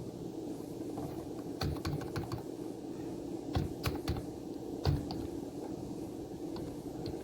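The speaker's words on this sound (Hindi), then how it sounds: "अब IP एड्रेस हमको यहाँ टाइप करना है" Computer keyboard keys tapped in short irregular bursts while entering an IP address for a peer-to-peer LAN setup, fairly close and clear over a quiet room hum, with no voices.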